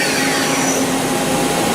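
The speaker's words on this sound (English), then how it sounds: "It's a good running spindle, for sure." A Doosan DMV3016LD CNC machine spindle runs steadily at around 5,500 rpm, a loud, close, even whirring hum with a constant high whine and no breaks.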